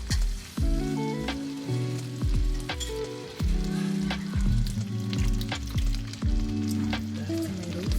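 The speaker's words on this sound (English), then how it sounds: "I'll mix that in. We got our meat sauce going." Diced tomatoes stirred into a sizzling meat sauce in a pan, a constant close frying hiss with repeated scraping and clanking stirring strokes throughout, no talking.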